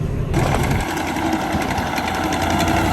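A steady, buzzing tractor engine drones loud and close while harvesting sunflowers, with a fast mechanical chatter throughout and no letup.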